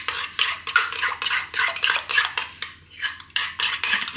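A spoon stirs barbecue sauce ingredients in a bowl, producing quick, rhythmic scraping and clinking of metal against the dish, close and steady with no talk.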